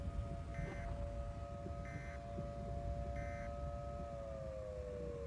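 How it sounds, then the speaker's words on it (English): Tornado siren in the Roblox storm-chasing game Twisted, a steady wailing tone held across the whole stretch with a slight fall at the end, over a rumbling background and short repeated beeps. "There goes the tornado siren."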